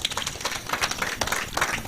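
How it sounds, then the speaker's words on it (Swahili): An audience breaks into brief, scattered clapping at a hospital newborn unit launch in Kitui, a short burst of dense hand claps with a faint voice underneath. "Pigeni makofi kidogo."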